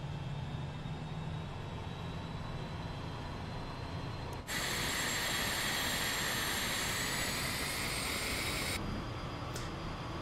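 Falcon 50 business jet engines spooling up in a flight simulator: a steady rumble jumps abruptly into a loud, bright whine with rising tones that holds, then the high whine cuts off while the roar continues.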